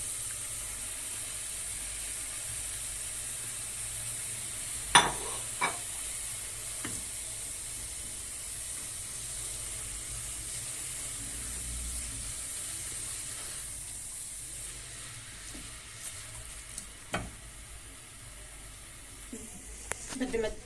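Carrots, chili and tomato stir-fry in a pan with a steady, close sizzle throughout, broken by a few sharp clinks and scrapes of a utensil against the pan.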